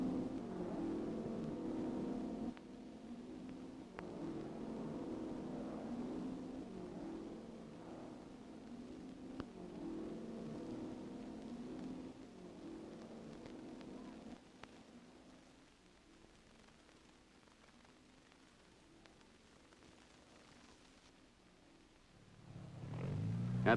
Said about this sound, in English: Cars are racing toward Marseille through the busy traffic of populated French highways.